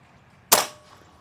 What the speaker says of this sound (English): That last shot, I don't know if it was the Chronograph messing up or the gun have valve lock.